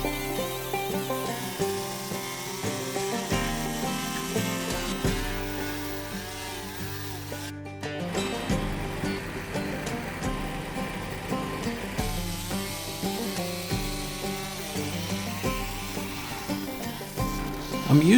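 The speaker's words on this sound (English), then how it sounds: "I'm using a long drill bit here" A long 1.5-inch diameter drill bit bores a hole through wood for a large chainsaw-carved mushroom lamp. It makes a steady, loud, whining motor drone that runs throughout, with a brief break near the middle.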